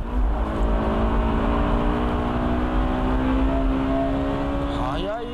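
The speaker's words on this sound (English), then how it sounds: "Look how fast this car is." A Honda NSX Type R accelerates hard on a track lap, its engine tone climbing steadily and loud from close range, with a gear change near the end.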